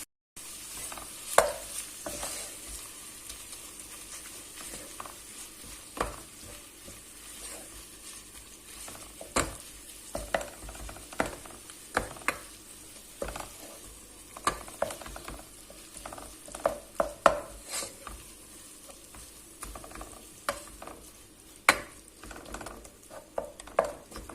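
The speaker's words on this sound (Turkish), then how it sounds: "Kıymalarımızı attık. Şimdi karıştırmaya başlıyorum." Minced meat frying with onions in a pan is stirred continuously, with irregular spatula scrapes and clicks over a low sizzle for the whole stretch.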